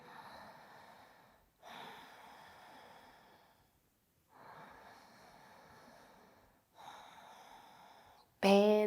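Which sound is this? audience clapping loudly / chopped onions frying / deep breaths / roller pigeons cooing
deep breaths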